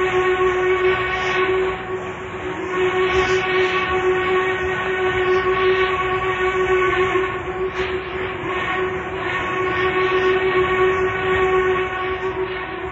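A loud, steady roar of a long-haul train pulled by double-header locomotives, with a sustained horn-like tone running throughout, rumbling continuously without pause.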